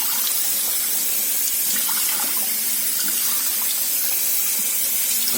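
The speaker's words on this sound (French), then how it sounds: "Un robinet comme ça, il n'y a pas énormément de pression." Water runs steadily from a low-pressure tap while a motorcycle part is rinsed, giving a continuous, even splashing hiss close by with no talk.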